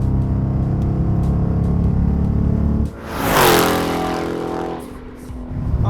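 A Dodge Challenger R/T's engine drones steadily while cruising at speed, then swells into a louder rising rev before settling back to a smooth hum inside the cabin.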